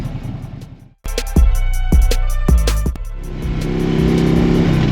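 A Harley-Davidson Road Glide motorcycle engine rumbles, then cuts briefly before revving up in several sharp throttle blips, followed by a steady loud idle up close.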